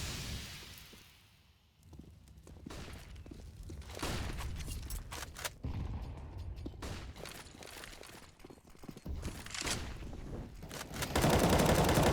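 Rifle fire in Counter-Strike on the Inferno map, shot through a smoke grenade: rapid, sharp bursts come again and again, some close and loud and others more distant, with a heavy flurry near the end.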